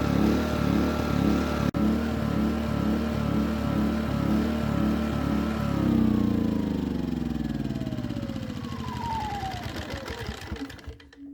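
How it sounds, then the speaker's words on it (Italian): A small engine idles unevenly because of a carburetor problem. The revs rise and fall in a steady, repeating surge for several seconds, then the engine winds down and slowly dies away. It is loud and close, with no voices. "Quando il motore ha un ciclo di rotazione non uniforme, si dice che pendola."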